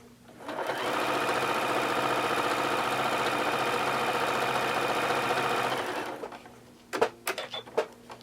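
A sewing machine chain-pieces quilt blocks with a fast, steady mechanical whir lasting about five seconds, then stops, followed by a few light clicks and handling sounds nearby.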